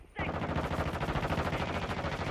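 Sustained automatic gunfire in Warzone 2, a dense, steady stream of rapid shots with a quick rhythmic pulse that starts abruptly and runs loud and continuous without a break.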